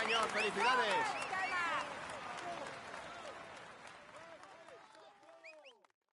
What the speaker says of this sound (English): Come on, let's applaud him once more.